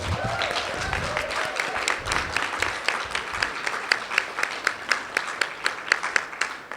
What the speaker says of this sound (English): I would love to take a moment to thank everyone on our planning committee and just give them a round of applause.